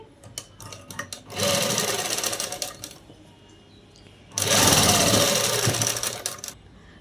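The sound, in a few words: sewing machine stitching dress sleeve lining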